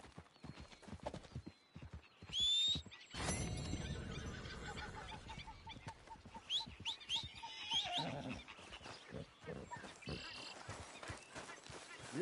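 A horse in Red Dead Redemption 2 clip-clops with crisp, evenly spaced hoofbeats, then lets out a loud whinny, followed by a busy rattle and more hoof steps.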